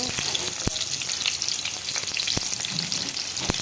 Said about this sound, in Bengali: তো এই যে এখানে আমি এখন তেল দিয়ে দিছি, শুটকি বসাই দিব